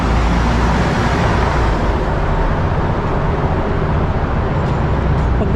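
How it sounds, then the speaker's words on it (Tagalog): A large exhaust fan roars inside the Kaybiang road tunnel, a loud, steady broadband drone with a deep low-frequency rumble that holds constant throughout. "Malaking exhaust fan."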